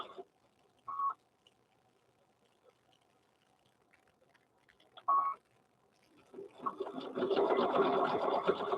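An embroidery-style sewing machine works on a stuffed toy bear, with two short isolated bursts of stitching over a quiet background, then a longer, louder run of continuous rapid stitching toward the end.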